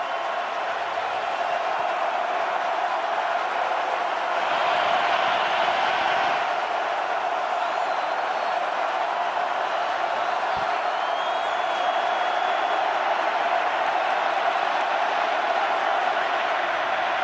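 Crowd noise in an NFL stadium during the Bengals vs Chiefs AFC Championship, a steady loud roar that holds for the whole stretch, with a brief lift near the middle.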